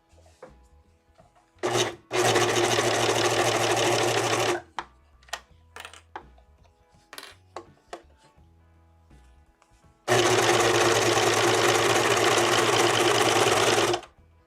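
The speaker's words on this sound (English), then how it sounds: "It's gonna be a little loud. My serge is a little loud." A serger sewing machine stitching fabric for a hooded shirt runs loudly in two long bursts of dense whirring, with short stops between them filled with clicks and handling noises.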